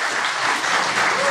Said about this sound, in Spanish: Recibámoslos con un caluroso aplauso.